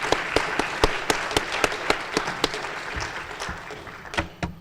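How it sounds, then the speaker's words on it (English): An audience claps at a community brunch, with dense, sharp hand claps that carry on steadily and then thin out and fade toward the end. "Let's have another round of applause"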